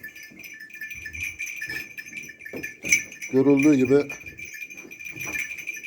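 A ram and merino-cross sheep bleat during evening feeding. One clear, wavering bleat rises briefly, with faint clinks around it, while someone talks nearby.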